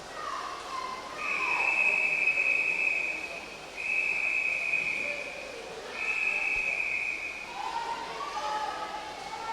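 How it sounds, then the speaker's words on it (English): A shrill referee's whistle sounds repeatedly at an indoor county swimming championship race, three long steady blasts over a reverberant pool-hall crowd murmur. "Hear the whistle now for our leader."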